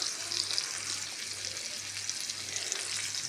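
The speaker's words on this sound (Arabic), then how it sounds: "غادي نقلبو حتى يتشحر مزيان ويتقلى في الزيت" Sliced garlic and dried coriander frying in oil in a pan for a Moroccan meat tagine, giving a steady, close hiss and crackle of sizzling with no pauses and no voices.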